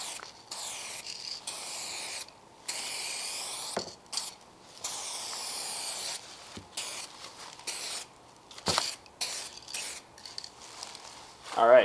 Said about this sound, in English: So I'm going to go ahead and spray the first coat.